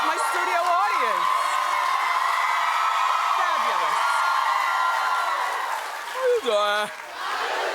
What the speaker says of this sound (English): With claps like that, terrific.